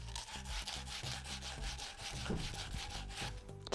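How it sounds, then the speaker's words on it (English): Sand cloth rubs back and forth over the ends of copper tube, a close, rhythmic scraping in quick even strokes, alone without talk. "take a piece of sand cloth"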